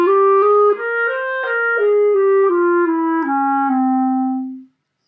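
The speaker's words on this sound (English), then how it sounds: "One of these 3 modes is called the Ahava Rabbah mode" Klezmer clarinet playing the Ahava Rabbah mode scale as a clear, sustained run of notes stepping up and then back down to a long final tone, loud, close and alone.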